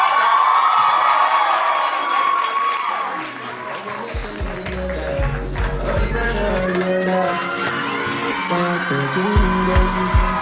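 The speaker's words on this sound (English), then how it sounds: "A round of applause." At a Johns Hopkins ASA fashion show, the audience cheers and applauds over loud, pulsing music, with shouts and claps rising throughout.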